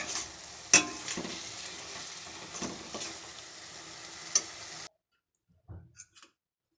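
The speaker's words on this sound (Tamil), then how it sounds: "தக்காளி நல்லா கிண்ட கிண்ட நல்லாவே மசிஞ்சிக்கிட்டு வருது" Tomatoes being stirred and sautéed in a pan for a Tamil tomato thokku, giving a steady close sizzle with sharp spoon scrapes and clicks for about five seconds, then near silence broken by a few soft knocks.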